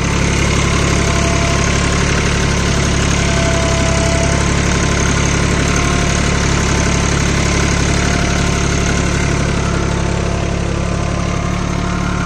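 A Swaraj Target 630 4WD mini tractor runs steadily while pulling a cultivator through a field, its mid-pitched diesel engine droning loud and close for the whole stretch with a constant vibrating hum and no voices.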